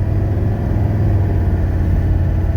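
A 1985 Mercedes 300D diesel with a 722.3 automatic transmission drones with a steady low rumble as it accelerates at part throttle, heard from inside the car, with no voices.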